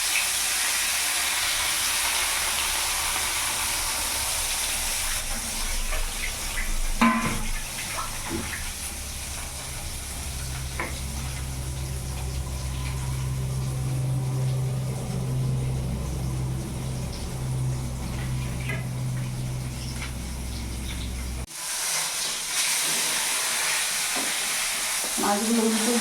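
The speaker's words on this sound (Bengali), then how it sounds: "মাছটা এখানে ভাজা হোক" Rui fish frying in hot oil: a continuous close sizzle and bubbling hiss with occasional clatter from the pan, steady for a long stretch before cutting off near the end.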